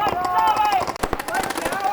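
Rapid paintball gun shots crackle in quick bursts during a pro X-Ball match, close and sharp, under an excited commentator's voice.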